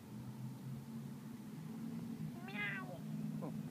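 A single cat meow, rising and falling, stands out over a steady low hum, followed by a faint short second mew.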